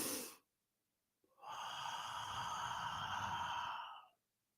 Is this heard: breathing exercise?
yes